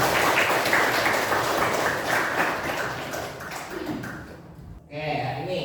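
A classroom of students claps for a classmate, a dense continuous patter of many hands that gradually thins and fades out, followed by a brief voice at the end.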